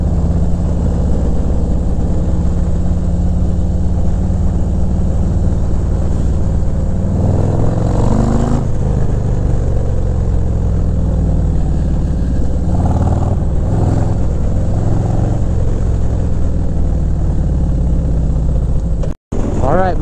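A car fitted with Zombie exhaust baffles drives out of a residential neighborhood, its steady engine and exhaust drone rising and falling gently as it pulls away, with no talk over it.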